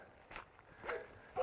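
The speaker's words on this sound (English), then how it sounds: "You may be able to hear that barking." A dog barking at a ranger's house near a bush fire trail at Molonglo Gorge, a few faint, distant barks in quick succession over quiet outdoor background.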